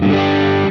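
A Bogner Wessex overdrive pedal driving an electric guitar produces a short burst of thick, saturated distorted tone that sustains evenly and then cuts off abruptly, with no talk over it.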